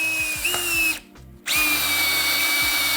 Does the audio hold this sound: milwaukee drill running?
yes